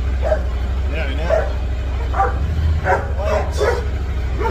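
A dog barks and yips in a series of short, excited bursts, with a steady low hum running underneath.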